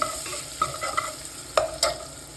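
Onions frying with dried red chilies in a pan for sambar, a soft steady sizzle with a few sharp clinks and scrapes of a spoon stirring.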